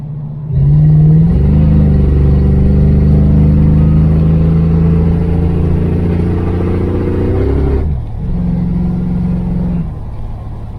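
A 1978 Dodge Aspen R/T V8 revved by hand at the gas pedal, rising into a loud sustained drone that holds for several seconds, drops off abruptly, then settles into a second shorter rev before easing back.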